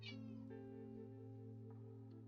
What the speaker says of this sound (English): She just meowed, looked at me, and then walked away.